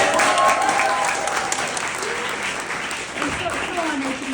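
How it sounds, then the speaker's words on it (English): Audience at a book release reading clapping together, a thick continuous patter of applause that eases slightly toward the end, with murmured voices mixed in. "could we just clap for her one more time?"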